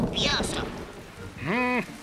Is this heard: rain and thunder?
yes